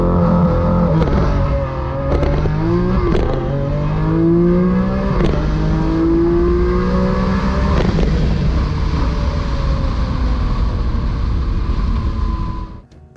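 Lamborghini Aventador S Roadster with a 6.5-liter, 740-horsepower V12, revving loudly close by, its pitch rising and falling through repeated sweeps over about thirteen seconds with no talking.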